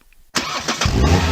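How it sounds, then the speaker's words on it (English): After a moment of near silence, a car engine cranks and catches, settling into a loud steady idle. "This is the sound of a car engine."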